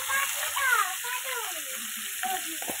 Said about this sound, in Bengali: এই যে দিয়ে দিচ্ছি ফুলকপি আলু। এটা ভালো করে একটু ভাজবো।